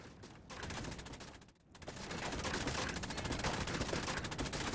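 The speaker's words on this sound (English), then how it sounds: "Machine gun! I don't stand a chance!" Sustained rapid machine-gun fire from the video game Assassin's Creed Chronicles: Russia, a dense continuous rattle of shots that dips briefly near the start, then resumes loud and unbroken to the end.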